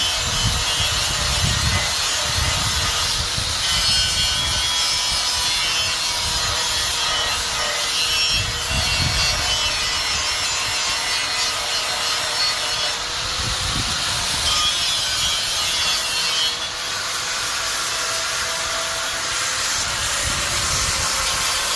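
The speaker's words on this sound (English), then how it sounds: "So we'll try with the flap disc first." An angle grinder fitted with a flap disc grinds steadily on a rear bumper support from a Honda CRX. The rough, loud rasping runs continuously throughout with slight surges in pressure.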